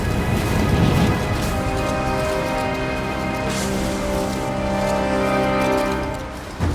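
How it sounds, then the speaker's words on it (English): Steady rain pours in Rise of the Tomb Raider as a storm approaches, a dense loud hiss with low thunder rumbling beneath, joined by a musical drone with sustained tones, continuing unbroken throughout. "Storm's getting closer."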